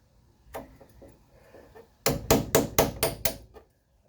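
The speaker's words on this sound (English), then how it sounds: "All this tool does is simply kind of chisels through the remaining weld that's left" A chisel tool striking through a remaining spot weld in car sheet metal: one sharp metallic hit, then a rapid run of six loud close blows before it stops.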